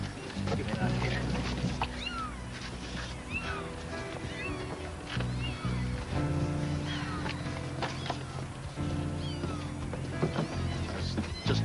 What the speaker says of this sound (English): It's cats. Kittens.